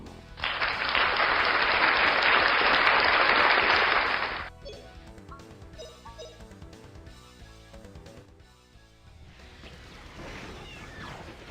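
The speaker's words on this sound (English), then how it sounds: "give yourselves a round of applause" A burst of crowd applause during a Grandia HD game livestream, loud and filling about four seconds, then cutting off abruptly to soft tonal game music underneath.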